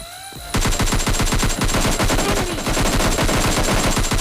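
Rapid automatic gunfire from the video game PUBG Lite hammers on loud and close in a continuous burst after a brief quieter lead-in.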